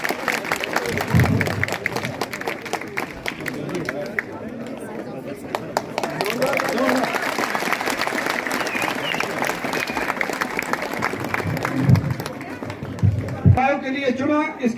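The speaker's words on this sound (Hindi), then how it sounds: "जोरदार तालियां।" Enthusiastic applause fills an official school-education ceremony in Uri, Kashmir, with sustained clapping and crowd noise over scattered voices, swelling and continuing through the whole stretch.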